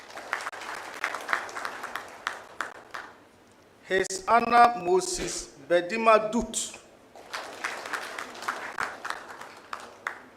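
Audience applause for circuit court judges at a formal ceremony, a burst of clapping lasting a few seconds between stretches of a man announcing names.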